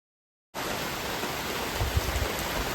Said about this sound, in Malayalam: ചെറിയ രീതിയിൽ മഴയുണ്ട് ഗൈസ്.